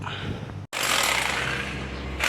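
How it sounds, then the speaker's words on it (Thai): A power drill bores into a second spot near a household water pump, a loud, steady whirring grind that starts after a brief pause and runs continuously. "เดี๋ยวเรามาลองเจาะจุดที่ 2 ดูครับ"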